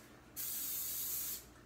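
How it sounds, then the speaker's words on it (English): Canola oil cooking spray hisses in one steady burst of about a second onto baking sheets held in a sink, close and fairly loud, with no talk. "spray it thoroughly"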